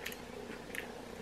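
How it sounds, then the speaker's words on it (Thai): Faint, soft crunchy chewing of fresh radish leaves, a few brief crisp bites close up with no talking. "เคี้ยว"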